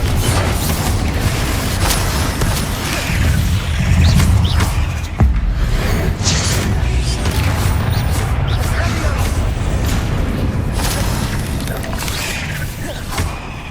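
Explosive Confringo spell blasts from Hogwarts Legacy on PS5, loud booming bursts repeating over a dense, continuous game soundscape with music and mechanical clatter, one sharp impact standing out mid-way.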